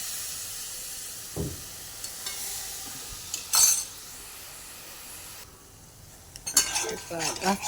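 Hot water poured over sizzling masala in a soya chunk curry pan: quiet crackling and utensil clinks break into a sudden hissing burst of steam and bubbling near the end, with no talking.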